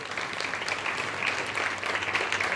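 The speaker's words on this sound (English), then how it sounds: "Can we give an applause for him for that?" Seminar audience on the 2024 general election applauding a speaker at Madina Central, an even, continuous patter of many hands clapping at moderate distance, no voices.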